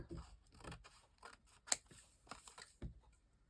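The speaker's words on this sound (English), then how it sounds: "we're going to take our scissors, and we're just going to trim this excess part off" Scissors snip through excess book-page paper being trimmed for a journal, a series of close, crisp cuts with one sharp louder snip near the middle, heard alone without talk.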